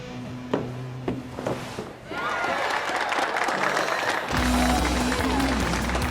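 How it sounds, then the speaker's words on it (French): A theatre audience cheers and applauds a stage performer, a broad crowd roar swelling after a few scattered claps and then holding steady and loud, with a sustained musical tone entering underneath near the end. "Tu entends le public qui m'acclame déjà"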